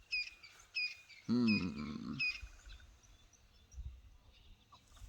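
Birds chirp in a garden with short, bright repeated calls at a moderate distance, joined midway by a louder, lower bird call lasting about a second before the chirps continue faintly.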